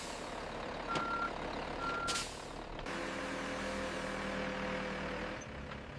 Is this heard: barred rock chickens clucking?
no